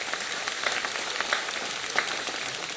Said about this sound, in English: Let's give a big round of applause to all our youngsters.